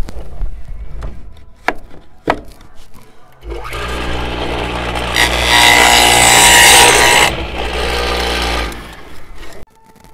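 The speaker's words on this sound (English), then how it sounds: "I want a fairly shallow cut with this dado." A table saw fitted with a dado blade cuts a shallow groove in wood for homemade record shelving. The motor spins up to a loud, steady whine with a rough cutting roar, then winds down after a few clicks.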